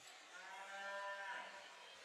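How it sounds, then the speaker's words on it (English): A cow moo plays over the arena sound system at an NBA basketball game between the Bulls and the Clippers, one drawn-out low call heard faintly against steady crowd murmur. "It sounds like a cow."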